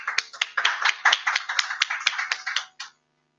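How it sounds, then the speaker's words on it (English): Applause from a small audience for a competitor at a science slam conference, a thin scattering of individual claps that holds briefly and then stops abruptly into silence. "Big applause for her."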